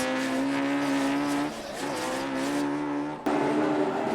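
Toyota Corolla drift car pushed hard around the Fermoy circuit at an Irish Drift Championship round, engine held at high revs with a brief dip and surge, loud and close, no talk.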